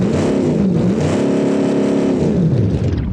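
A V8 engine on an American car in a video game revs hard, its loud, gritty roar rising and falling across a few seconds with no voices over it.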